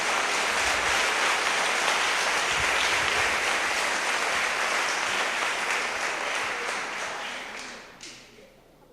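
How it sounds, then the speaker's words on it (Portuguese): Congregation at a church service applauding together, a dense, steady wash of many hands clapping that holds for most of the stretch before tapering off toward the end. "Pode aplaudir e glorificar o nome do Senhor Jesus"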